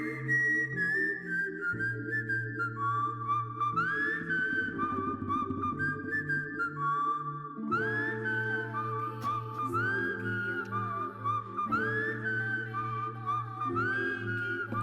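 A whistled melody carries a played song, the bright tune sliding between notes over steady instrumental backing and a low bass line, continuous with no talking.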